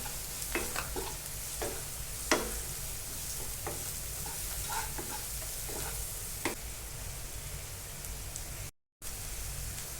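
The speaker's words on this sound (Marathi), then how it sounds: "आता यामध्ये मी कश्मीरी मिरची पावडर एक चमचा कोल्हापुरी तिखट दोन चमचे घालून छान भाजून घेणार आहे" Ginger, garlic, onion and tomato with Kashmiri and Kolhapuri chili powder stir-fry for pav bhaji, a close, steady sizzle broken by repeated spatula scrapes and taps, with a brief dropout near the end.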